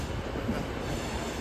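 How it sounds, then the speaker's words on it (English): A Class 390 electric train pulling out of Carlisle station, bound for Edinburgh Waverley, gives a steady, close rolling rumble with a faint high whine and no voices. "Departing now is 390 123. Off to Edinburgh Waverley."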